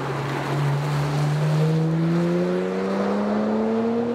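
A BMW 1M Coupe pulls past, its engine note climbing steadily in pitch as it accelerates, a smooth rising tone over broad road and wind roar, fairly close and loud.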